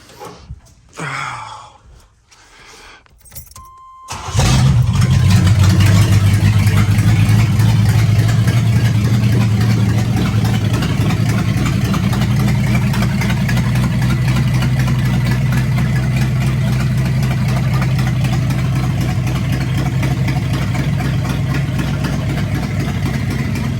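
Car engine cranking and catching after being newly installed, a short burst of starter noise then a loud steady idle, close and continuous for the rest of the clip.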